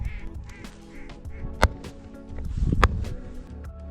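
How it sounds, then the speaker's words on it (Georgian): Ducks quack during a late-season duck hunt near Ninotsminda, with two sharp, loud cracks standing out over steady low rumble and outdoor background noise. "იხვი გადაფრინდა იქით მხარეს"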